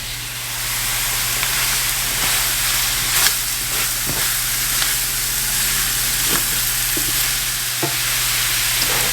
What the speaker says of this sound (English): sausage itself is very fatty, so it'll have plenty of grease as it starts to cook